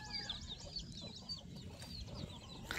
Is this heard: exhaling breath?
no